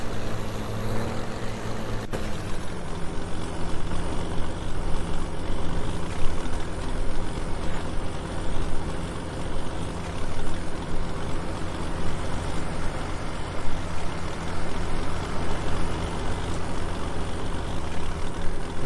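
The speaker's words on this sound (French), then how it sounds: "Il fait énormément de bruit ce tracteur-là." A loud tractor engine runs steadily on a farm in the Limousin, a constant heavy mechanical roar with a dense low rumble that fills the whole stretch without pause.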